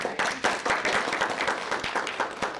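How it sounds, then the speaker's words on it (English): Meeting attendees applaud together, a steady wash of many hands clapping throughout, fairly close and continuous without pauses. "I hear the applause"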